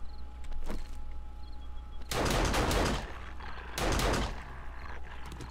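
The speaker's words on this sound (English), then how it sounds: "What are you shooting at?" Bursts of gunfire in the survival game 7 Days to Die, two dense loud volleys of rapid shots over steady low background noise, with a fainter shot earlier.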